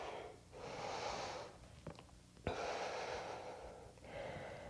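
Slow, deep breath drawn in during a yoga flow, a broad airy rush that swells and fades twice amid soft breathy hiss, with a couple of brief sharp clicks in between; no talking.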